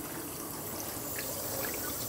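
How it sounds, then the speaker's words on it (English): Water trickles and pours steadily into a small test vial to top it up during a chlorine residual test, a continuous soft splashing flow with no talk. "I have to add a little more water to this."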